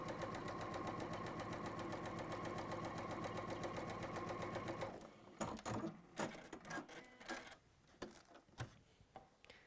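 A sewing machine stitching fabric with contrasting thread, a steady close rapid run for about five seconds, then stopping and giving way to scattered handling clicks and knocks.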